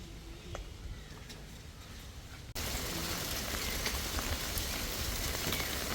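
Steady rain pours down outdoors, a dense, even patter on surfaces that suddenly grows heavier and louder partway through and keeps falling without pause.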